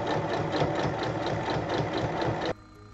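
Sewing machine stitching fabric and batting together, a steady rapid mechanical chatter with a rhythmic pulse, loud and close, running alone for about two and a half seconds before stopping abruptly to a quiet room.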